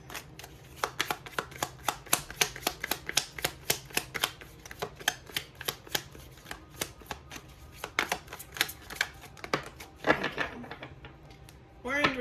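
Tarot cards are shuffled and drawn in a quiet room: a long run of rapid, crisp riffling flicks and card snaps, close and soft, with a few voice sounds near the end.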